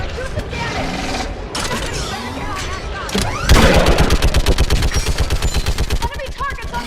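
A mounted gun fires in rapid bursts during a Mass Effect battle, loud and close, its steady automatic rhythm building to a sustained run of evenly spaced shots amid combat noise.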